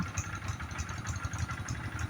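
A tractor engine idles and chugs steadily in a rice field, a low, continuous mid-pitched rumble close by with no talk over it.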